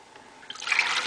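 Water, measured out to 32 ounces, is poured into a container for cleaning monarch butterfly cages; a short, faint trickle swells into a fuller splashing pour halfway through.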